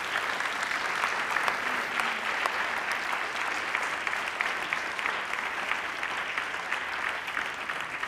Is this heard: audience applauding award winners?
yes